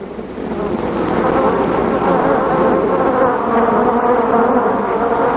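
Honeybees swarm out of the hive to find a new home with the old queen, making a dense, continuous loud buzzing hum that fills the whole stretch without a break.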